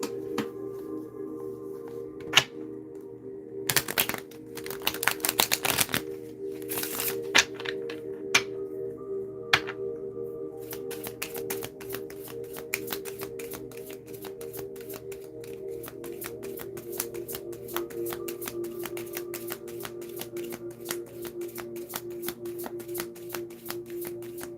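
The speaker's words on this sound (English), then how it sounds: "Let's shuffle and see." Tarot cards are shuffled by hand in quick bursts of riffling and soft slapping, close to the listener, with brief pauses between rounds and no talking.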